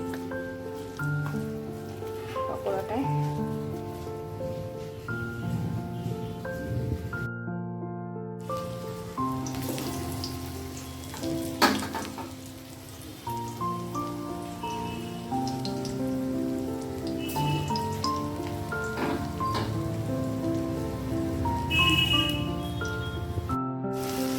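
Black cumin seeds (kalonji) fry in hot oil with a steady, close crackling sizzle like light rain, running continuously over faint tonal background music.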